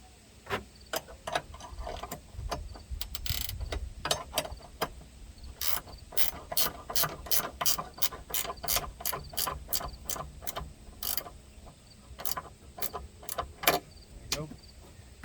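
A hand ratchet tightening a fastener during an installation, a long series of sharp, close clicks in quick bursts and steady runs, with faint background rumble and no talking.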